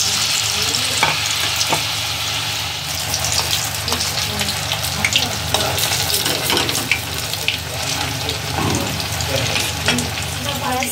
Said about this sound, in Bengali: কাঁকরোল ভাজা রেডি, কাঁকরোলের পুরের বড়া